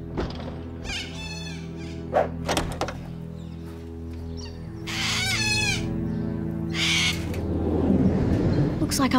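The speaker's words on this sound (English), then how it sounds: "I can't believe he's really stealing birds." Chickens clucking and a rooster crowing in a barnyard, several bursts of crowing and clucks spread across the clip over a steady low background, with animated speech mixed in.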